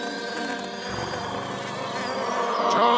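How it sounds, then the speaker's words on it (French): A housefly buzzes steadily in a Garfield cartoon scene, a continuous close droning hum layered with music and effects, rising slightly louder toward the end. "Oddie se bagarrait avec une mouche"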